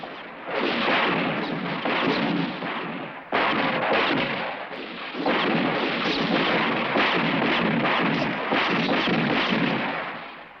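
Dense, continuous bursts of gunfire at a shooting range in a film scene, rolling on without pause, loud and booming, with a brief dip partway through before the shooting resumes.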